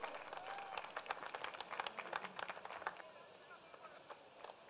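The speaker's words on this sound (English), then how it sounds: "A big round of applause for her, please." An audience applauds steadily at the Voice of Goa singing competition final, a dense spread of clapping that holds for several seconds at moderate distance before gradually thinning.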